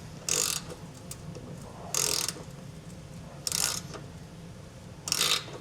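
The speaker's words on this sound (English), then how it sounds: "we want to start running this in slowly and just get it to start in" A hand ratchet drives a self-tapping bolt into the frame of a 2016 Ford truck while a Class III trailer hitch is installed: four short, raspy clicking bursts, close and evenly spaced, over a low steady background hum with no talking.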